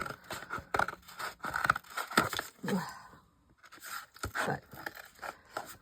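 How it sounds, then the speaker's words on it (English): Scissors scrape and snip through a package, sounding as several close, crisp cuts and crinkles with brief pauses, while a voice says a single word. "I wonder if I can take my scissors and open it."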